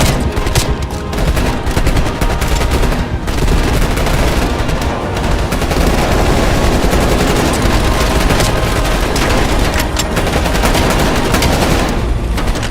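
Helicopter-mounted gunfire in Call of Duty Black Ops Cold War rattles loud and sustained as dense, continuous automatic bursts over a heavy rumbling roar.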